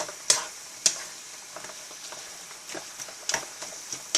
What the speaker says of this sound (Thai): ผัดสักพักนะคะประมาณ 5 นาที